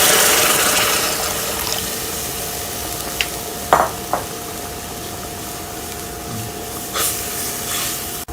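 Water is poured slowly into a pan of browned salted soybean over lowered heat. A steady hissing sizzle runs throughout, with a few brief clinks and splashes.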